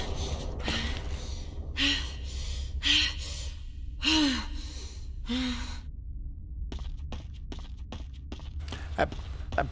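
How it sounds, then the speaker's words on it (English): Heavy, strained breathing from the character Jill in Resident Evil HD, several loud gasping breaths in the first six seconds, then quieter clicking and creaking game sounds. "That breathing was intense there, Jill."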